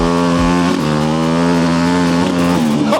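A turbocharged BMW motorcycle engine revs hard and climbs in pitch, loud and close, with a strong droning tone and brief throttle changes.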